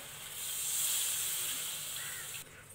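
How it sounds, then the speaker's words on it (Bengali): Warm water poured into a frying potato and paneer curry gives a loud, steady hiss and sizzle that rises quickly, holds for about two seconds, then drops away. "এবার দিয়ে দেব উষ্ণ গরম জল"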